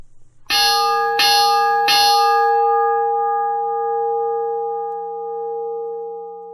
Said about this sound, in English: have a three bell salute to Harley Race.